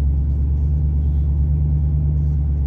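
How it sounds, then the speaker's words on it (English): A pickup truck's exhaust through a Cherry Bomb 8-inch glass pack muffler idles in a deep, steady rumble, loud and constant with no revving and no voices. "the main cackling sound is out at the back of the truck"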